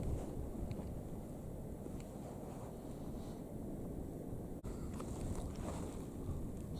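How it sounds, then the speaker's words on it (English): Wind gusts across open winter moorland, a low, continuous rumbling buffet against the microphone, fairly quiet with a brief thump partway through. "it's getting a bit windy, the wind's getting up"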